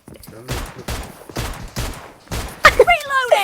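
Gunfire bursts in PUBG Mobile: several loud, evenly spaced volleys of rapid shots, followed by sharp ringing impacts near the end.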